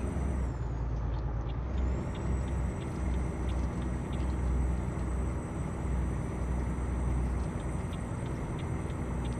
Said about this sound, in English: Towing 22 tons uphill